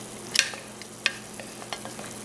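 Ramen noodles and broken bits being stirred in a pot of boiling water, with a few sharp utensil scrapes and clinks over a faint bubbling background.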